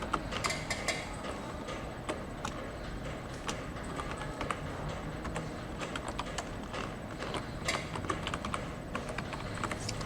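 Rapid, close clicking of keys as an email address is typed on a computer keyboard, a steady irregular patter of sharp taps over a faint background hiss.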